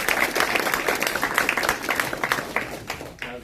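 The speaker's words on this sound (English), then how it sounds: "I ask you to join me in a round of applause" A roomful of people applauds, a steady wash of clapping that holds for a few seconds and then tapers off near the end.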